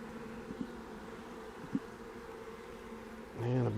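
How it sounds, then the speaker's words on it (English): Honeybees buzzing around an open nuc hive, a soft, steady hum with a couple of brief louder passes near the microphone, and a short louder noise at the very end. "And a bunch of those bees came off there on the side"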